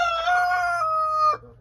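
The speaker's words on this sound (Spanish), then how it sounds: "Qué preciosidad de gallo tenemos acá." A six-month-old Light Brahma ermine rooster crows once, close and clear, in a long drawn-out call that ends abruptly, with no talking.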